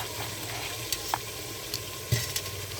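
Chopped tomatoes and spices sizzling in a hot frying pan for a potato and pea curry, a soft steady crackle with a few faint clinks and stirring taps, no talking.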